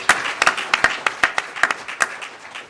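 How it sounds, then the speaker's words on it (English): Small group applauding at a public higher education leadership panel, sparse, distinct claps spaced irregularly, moderately close and fairly thin, with no cheering. "Let's give him a round of applause as well."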